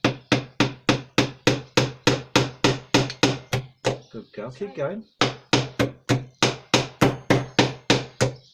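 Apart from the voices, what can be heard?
hammering nails into a wooden planter box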